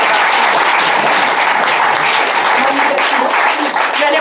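Loud, dense audience applause fills an improv match venue, steady and unbroken from start to finish with no talk over it.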